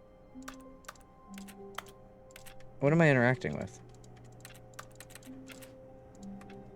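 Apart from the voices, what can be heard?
keyboard tapping in The Stanley Parable video game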